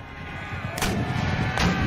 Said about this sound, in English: I forgot they have some artillery.